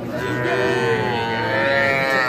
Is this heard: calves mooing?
yes